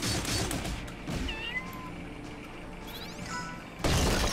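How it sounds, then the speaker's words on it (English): A cat meowing in the video game Indivisible amid battle sounds, a couple of short, rising meows heard over game effects, followed by a loud crash at the end. "stupid looking cat."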